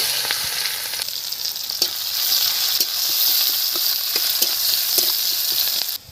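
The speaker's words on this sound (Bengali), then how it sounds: "তেল দিয়ে দিচ্ছি জিরে ফোড়ন দিলাম পেঁয়াজ দিয়ে দিলাম" Onion frying in hot oil with a cumin tempering, giving a loud, steady sizzle close up with faint stirring clicks, then cutting off sharply at the end.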